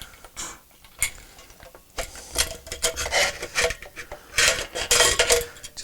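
A plastic lid pried off a homebrew beer fermenter, a run of scraping, rasping and clicking bursts as it twists and pops free, close and fairly loud with no voice over it.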